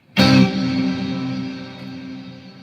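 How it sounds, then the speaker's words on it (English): A single guitar chord is struck through a reverb effect, with a sharp attack that leaves a long, rich wash of sound slowly decaying over a couple of seconds, heard alone without talk. "What is reverb? This is reverb."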